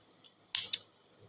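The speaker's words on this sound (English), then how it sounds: "Then you can cut the yarn." Scissors snip through crochet yarn in two quick close cuts, preceded by a faint small click, in a quiet room with no talking.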